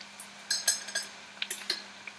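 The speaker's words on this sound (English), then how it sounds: "I'm going to add the 4 tablespoons of flour" Tablespoons of flour go into butter and sautéed shallots for a béchamel roux, heard as a few light metallic clinks and taps of a spoon against a pan over a soft background hum.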